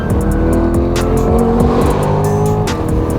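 A 2020 Corvette C8 at Monticello Motor Club pulls hard on the track, its loud engine roaring without a break as it climbs through rapid gear changes.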